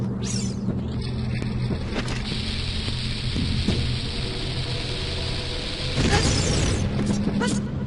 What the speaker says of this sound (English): you have to drop bombs in both of those eye sockets